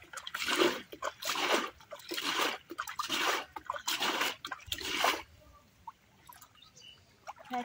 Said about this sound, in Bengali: অনেক জল পড়ছে।